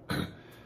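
A single short, faint throat clearing with a slight cough, heard close and alone.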